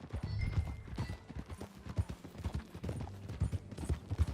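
Horse hooves clip-clop in a steady, quick rhythm as a rider travels on horseback in Red Dead Redemption 2, with quiet, continuous hoof beats under soft ambient game sound.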